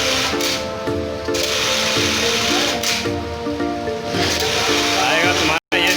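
An industrial sewing machine stitches the side seam of a pair of jeans, a loud continuous rapid buzzing whir with brief stops and restarts and a short cut near the end.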